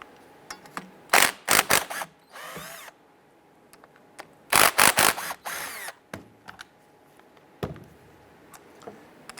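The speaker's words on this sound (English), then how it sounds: "We're going to use our 13mm socket and remove our two slide pins" A power tool with a 13mm socket removes the two brake caliper slide pins on a 2005-2010 Chrysler 300, in short loud bursts separated by quiet gaps and small clicks.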